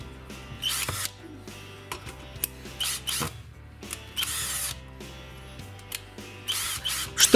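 A DEKO cordless impact screwdriver drives screws in short whirring bursts separated by pauses, close and fairly loud, with small clicks and handling noise between runs.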